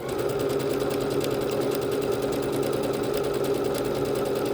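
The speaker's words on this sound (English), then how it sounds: "we are continuing to stitch out all of the different stitches, decorative stitches, on the B-77 Bernette" A Bernette B-77 sewing machine works through decorative stitch 134 with a steady, rapid mechanical chatter and a constant hum, close and unbroken, with no voices.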